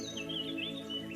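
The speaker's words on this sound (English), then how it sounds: "birds chirping" Small birds chirp and tweet in quick, light calls, faint and set against a steady, soft musical drone.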